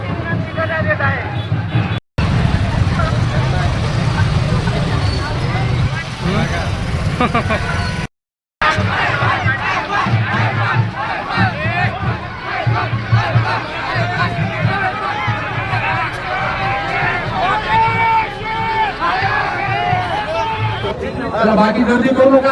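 A crowd at a political meeting for municipal election candidates keeps up a dense, loud babble of many voices, with speech coming through it almost throughout and two brief gaps of silence near the start.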